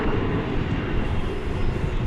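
An Emirates airliner arriving from Dubai on final approach gives a low, rumbling engine drone heard from a distance, steady and unbroken, with no talk.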